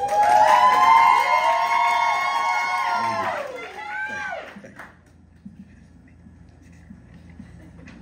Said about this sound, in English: The crowd applauded with encouragement.